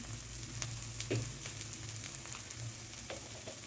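Jackfruit curry masala of onion, ginger and garlic frying in a pan as a spoon of coriander powder goes in, giving a steady low sizzle throughout with a few faint stirring clicks.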